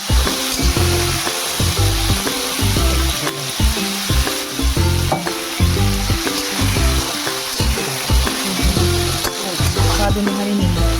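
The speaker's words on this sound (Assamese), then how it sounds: "দারচিনি আৰু দি দিম গোটা জিৰা। এইখিনি অলপ ভাজি ল'ম।" Cinnamon and whole cumin seeds fry in hot oil in a pan for a soya dish, a loud, steady sizzle with crackling pops and occasional stirring scrapes throughout.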